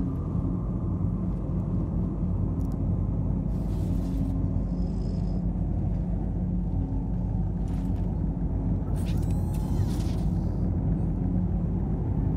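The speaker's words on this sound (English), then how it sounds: "Oh, we got a dust storm. Great." Dust storm in the video game Star Citizen, a steady low rumble filling the whole stretch, with occasional brief clicks and mechanical sounds on top.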